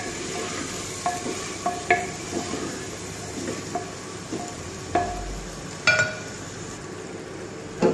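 Fried onions stirred and sautéed with ginger-garlic paste in a pot, giving a soft steady sizzle with scattered clinks and scrapes of a spoon against the metal, heard up close with no talking.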